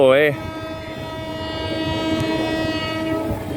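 A train arriving at a Thai railway crossing gives a brief loud horn blast at the start, then its engine and wheels rumble steadily and loudly as it rolls in close by.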